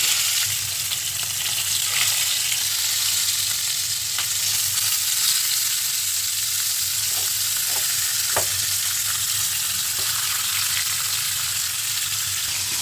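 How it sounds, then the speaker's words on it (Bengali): Fish fries in hot oil in a frying pan, producing a dense, continuous sizzle and crackle that holds loud and even throughout, with occasional sharper pops and no talking. "তেলটা গরম হয়ে গেছে ফ্রাই প্যানে আমি মাছগুলো ভেজে নেব"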